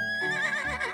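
A cartoon pony gives one short, bright neigh with a wavering whinny, close and clear, with no talking.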